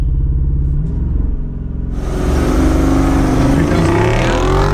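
A HEMI V8 Jeep Wrangler with its exhaust open and traction control off idles with a deep rumble, then revs hard and climbs into a loud, rising roar that holds up close.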